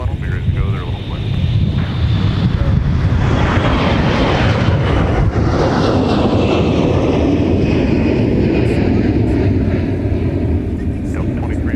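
Delta airliner taking off from a runway at MSP airport, a steady loud roar of jet engines with wind buffeting, swelling and sustained throughout, heard alone.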